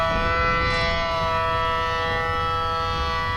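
Wailing civil-defense-style sirens in a Roblox vehicle chase game, a steady sustained tone with several layered pitches holding loud and continuous throughout, no voices.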